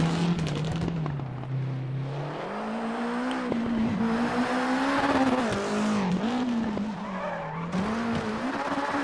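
Rally car in the racing game WRC 8 driving fast, its engine droning steadily and rising in pitch with tyres skidding and scrabbling on the loose surface, loud and continuous with no talk.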